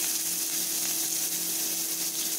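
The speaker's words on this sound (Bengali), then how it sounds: "তেল গরম হয়ে গেলে কিছু পরিমাণ পেঁয়াজ দিয়ে দিলাম" Chopped onion sizzles in hot oil in a pan, a soft, steady crackling hiss at low volume with no talking.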